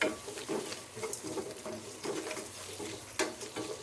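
Onions and curry leaves fry in oil in a pan. A faint, soft sizzle and patter comes through with occasional stirring clatters, and no one speaks.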